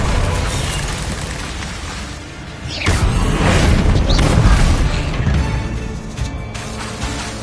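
Bombarda blast spell cast in Hogwarts Legacy, a swooping whoosh rising into a heavy booming explosion with crashing debris, loud and close, sustained for a few seconds before tapering off.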